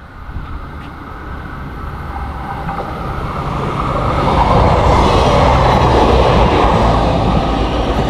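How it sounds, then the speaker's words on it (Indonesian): A train on single-track rail in Japan rumbles past nearby, its steady roar swelling louder over several seconds with faint clattering of wheels on rails. "Nah ini udah datang lagi keretanya"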